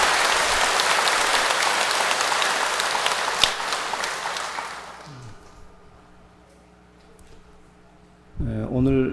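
A crowd of Buddhist laypeople applauds loudly for the monks at a temple Dharma talk. The dense clapping runs for about five seconds, fades into quiet hum, and a voice then begins speaking.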